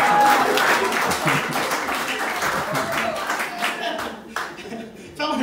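A comedy club audience claps and cheers for a stand-up comedian, with dense sustained applause that thins out toward the end.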